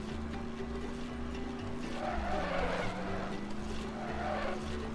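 A racing car in the SpongeBob Movie video game drives with a steady engine hum and skids, its tires squealing through the middle of the run while music plays underneath.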